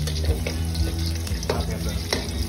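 Garlic simmering in a pan for a pear sauce, giving a steady bubbling sizzle with occasional stirring clicks, close and fairly loud under a low background hum, no talking.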